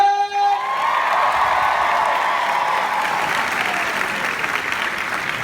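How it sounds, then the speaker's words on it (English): A crowd at a fan convention celebrity panel breaks into sustained applause, loud and steady throughout, mixed with some cheering and whoops. "Big round of applause for our signers, by the way"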